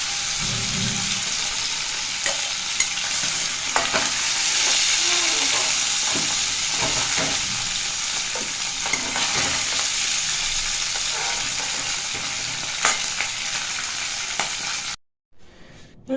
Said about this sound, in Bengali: মাছের মাথাগুলো ভাজা হয়ে গেছে, এবার তুলে নেব